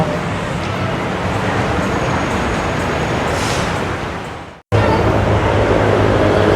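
A Bangkok skytrain passes above the Lat Phrao intersection amid a loud, steady rumble of city traffic that cuts out abruptly for a moment, then resumes at the same roar.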